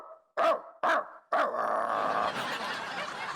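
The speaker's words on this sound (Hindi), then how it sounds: "कुत्ता भौंका, कुत्ता भौंका" A dog barks three times close by in quick succession, sharp and loud. A sustained rough growl-like noise follows and carries on to the end.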